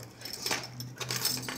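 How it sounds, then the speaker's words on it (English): A bunch of everyday-carry keys jangles and clinks close by, with a few bright metallic rattles in a short burst. "My keys."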